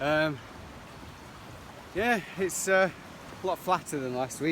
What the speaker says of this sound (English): You can hear the weir behind me